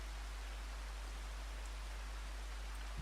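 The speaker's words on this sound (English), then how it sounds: "We've got lots of rain." Soft, even hiss of rain falling in a farming simulator video game, a steady faint wash with no distinct drops or breaks, alone without any talk.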